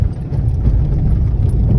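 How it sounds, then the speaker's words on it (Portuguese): A wheel loader's engine rumbles loud and close as it passes on a dirt road, a steady deep drone with a rough, rattling texture and no speech. "Olha a carregadeira"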